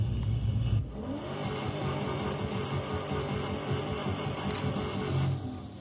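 A red Chevrolet Camaro engine in the racing game Need for Speed Most Wanted, a steady powerful rumble and whir held throughout, with slight surges in level, no talking over it.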